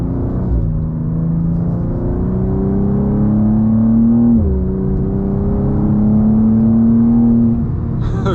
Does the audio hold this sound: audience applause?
no